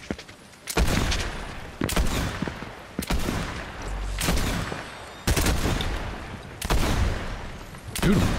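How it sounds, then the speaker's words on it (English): Heavy gunfire in Fortnite Zero Build, arriving as a run of loud, sharp bursts about every second, close and punchy, with no talking over it. "He's still shooting at him."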